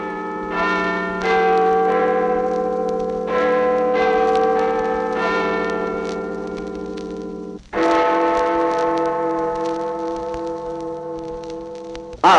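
Big Ben's great bell chimes in a series of deep, sustained, ringing strikes that overlap into a continuous wash, with a fresh strike around the middle. The bell is loud and heard alone, without talk.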